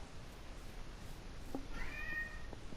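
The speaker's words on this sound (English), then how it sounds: "Uh-oh, my cat's running wild around the house." Cat meowing in the Minecraft video game, a short faint meow rising over a steady low background near the end.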